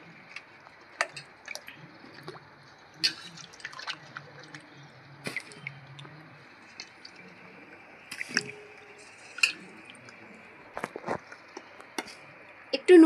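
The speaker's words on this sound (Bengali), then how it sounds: "ধুয়ে রাখা আলুগুলো দিয়ে দিচ্ছি।" Washed potatoes dropped into a pot of water to boil for Kashmiri aloo dum, giving scattered soft plops, drips and light clinks, faint and close over a quiet background.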